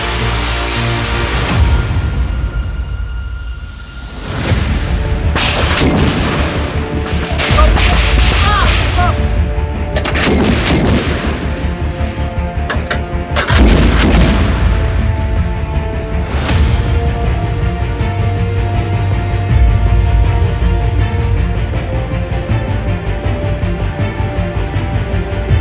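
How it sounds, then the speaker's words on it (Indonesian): Repeated sharp blasts from an S-60 57 mm anti-aircraft cannon ring out one after another at irregular intervals, each a loud broadband crack over a constant rumbling background. "Di balik suara ledakan yang menggetarkan bumi"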